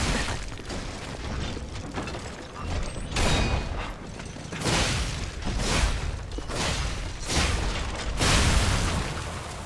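Bombs exploding in the game Lies of P: a series of loud, broad blasts, roughly four or five spaced a second or two apart, each a sharp burst with a rumbling tail.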